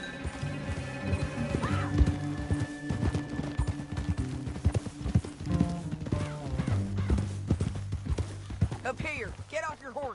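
Horse hooves clip-clop rhythmically in Red Dead Redemption 2, mixed with game sounds and an occasional whinny, under near-constant talking.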